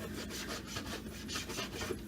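Knife drawing steadily through raw beef, cutting quarter-inch jerky slices, giving a continuous close rubbing, rasping sound with repeated stroke pulses and no talking.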